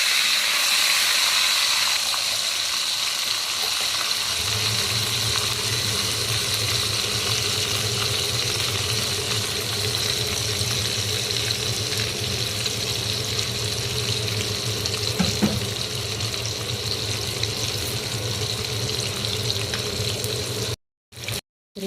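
Chicken pieces fry in a pan with butter and olive oil, giving a steady, loud sizzling hiss that lasts throughout and cuts out briefly at the very end.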